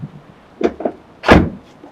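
The sliding side door of a Nissan NV2500 camper van being worked, with a couple of short clunks and rattles followed by one loud, solid slam as it shuts, up close.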